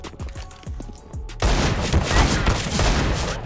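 Counter-Strike gameplay with quieter game sounds at first, then a sudden loud burst of sustained gunfire that continues densely to the end.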